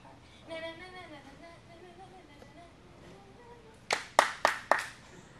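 Four sharp hand claps ring out in a quick, even rhythm during a chicken dance, following a voice humming the tune.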